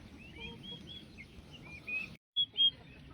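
A mixed farm flock of poultry, including turkeys, calling at moderate distance, with chirps and squawks over a low murmur, a short silent break, then a couple of louder calls.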